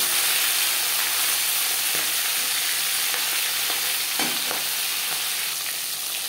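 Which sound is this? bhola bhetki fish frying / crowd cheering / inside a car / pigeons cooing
bhola bhetki fish frying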